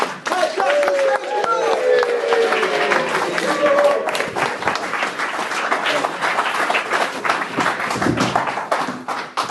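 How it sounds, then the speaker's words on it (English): A live comedy gig audience cheers, whoops and claps to welcome a comedian to the stage, a steady dense burst of applause with shouts rising over it throughout. "Let's all start cheering and whooping and clapping"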